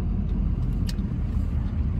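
A custom-built two-wheel drive truck heard from inside while driving, a steady low engine and road rumble filling the cabin, continuous and close with no talk.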